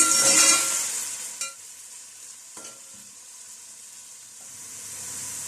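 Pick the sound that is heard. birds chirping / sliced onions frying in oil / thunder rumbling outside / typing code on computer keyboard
sliced onions frying in oil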